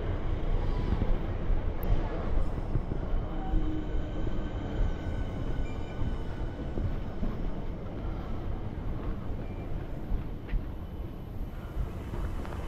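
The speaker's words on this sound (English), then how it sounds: "Here comes the train." A train pulls into a station on Oxford Street, a steady broadband rumble and rail noise holding close and loud throughout with faint voices underneath.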